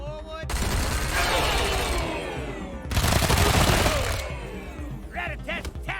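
Rapid automatic gunfire from a Wasteland 3 firefight comes in two long, loud, dense bursts with a brief gap between them, followed by scattered shorter shots and combat noise.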